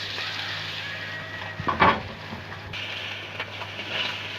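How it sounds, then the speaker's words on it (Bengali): Koi fish fry in hot oil in a wok with a steady, moderate sizzle and brief scraping bursts from handling midway, with no talking. "এই দেখো বন্ধুরা, আমি ঠিক এমন ভাবে মাছগুলো ভেজে নিই।"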